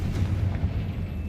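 A deep, rumbling blast from the Confringo spell in Hogwarts Legacy rolls out low and heavy, a sustained booming explosion without distinct separate hits.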